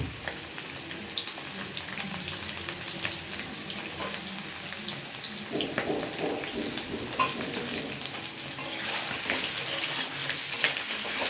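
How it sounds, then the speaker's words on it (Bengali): Potatoes, some large ones cut smaller, fry in a wok of hot oil with a continuous crackling sizzle, joined by stirring scrapes and clatter that grow busier toward the end, close by and with no talking. "আলুগুলো আমরা বাকি যে আলু আছে সব কড়াইয়ে দিচ্ছি।"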